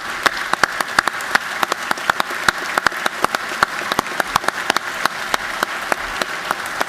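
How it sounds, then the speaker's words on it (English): Applause in a legislative chamber for airmen who have just taken the oath, a room of people clapping with many sharp individual claps standing out, steady and fairly close. "I'd just like to give them a round of applause for taking the oath to serve our nation"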